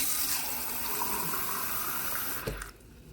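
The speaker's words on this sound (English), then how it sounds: "now I'm going to fill the can up about halfway with water" Tap water runs steadily into a soup can being filled about halfway, a continuous splashing gush that stops abruptly near the end.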